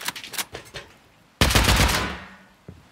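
Rapid automated turret fire rattles close and loud in a video game: a quick burst of shots, then a denser, sustained volley that slowly trails off.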